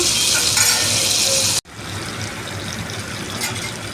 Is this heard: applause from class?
no